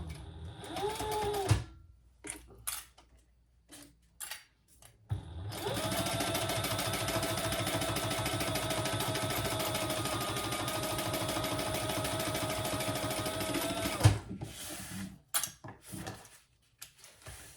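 A sewing machine stitches a fabric accent piece onto a wristlet at the seam allowance, running at a steady, even whir for about eight seconds, framed by clicks and handling noises of the fabric before and after.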